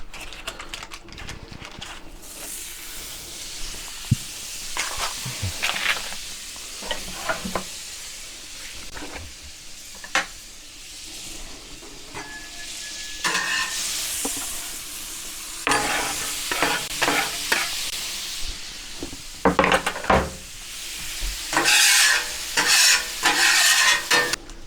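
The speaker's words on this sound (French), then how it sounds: "mes oignons maintenant sont tendres, ok, ils commencent à caraméliser un petit peu" Onions cook on a Pit Boss Ultimate plancha griddle, turning tender and starting to caramelize, with a steady sizzle broken by scraping and stirring of a spatula against the flat metal surface.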